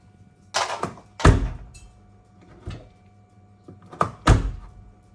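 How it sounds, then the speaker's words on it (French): Door of a Mercedes W210 car being pushed shut several times, giving a series of close, solid thunks with short rattles, irregularly spaced and heard alone. "si on ferme la porte"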